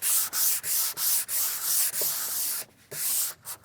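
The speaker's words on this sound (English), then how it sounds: "I do want to sand down the primer just a tad bit to take away some of that texture" Steady back-and-forth strokes of a fine sanding sponge on primer over a dresser, rhythmic and close, with a soft hissing rub on each pass and a short break near the end.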